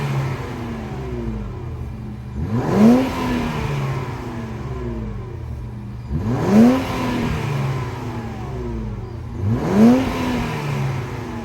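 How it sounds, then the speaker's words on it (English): Dual exhaust on a 2023 Infiniti Q50 Luxe AWD with a 3-liter twin-turbo V6 revs three times over a steady idle, each blip rising and falling quickly, close and fairly loud, with no voices. "let's now take a listen and see what this dual exhaust sounds like."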